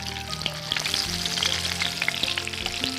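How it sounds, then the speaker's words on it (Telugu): Pomfret fish frying in hot oil after being flipped, a loud, close, dense crackling sizzle with rapid popping spatter throughout and no speech. "రెండో వైపు కూడా ఇలాగే ఫ్రై అవ్వాలి"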